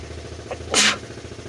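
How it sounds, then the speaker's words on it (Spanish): A single sharp sneeze close to the listener, a quick intake followed by one loud burst, alone against quiet room tone. "Estornudé, pero no es coronavirus."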